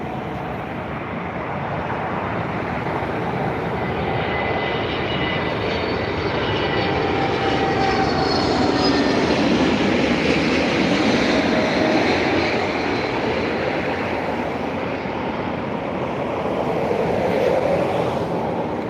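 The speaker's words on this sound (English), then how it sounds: "Aer Lingus EI 106 from New York, JFK, an A321neo" An Aer Lingus Airbus A321neo arriving from New York JFK passes at Dublin Airport, a loud, sustained jet engine roar that swells and lingers for many seconds, heard alone without talk.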